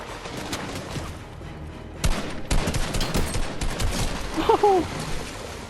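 Video game gunfire plays over a headset as a dense, continuous volley of sharp shots and bursts, loud and close, with a brief vocal sound near the end.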